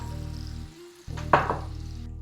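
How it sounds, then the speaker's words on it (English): Pine nuts frying in a pan of butter, a steady close sizzle with a brief dip and a few sharper crackles as they are stirred. "we're going to fry the pine nuts"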